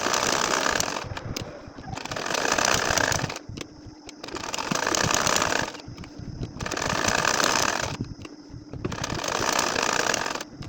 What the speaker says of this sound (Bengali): এখন আমি আরও একটা লাইন সেলাই করে দেখাবো।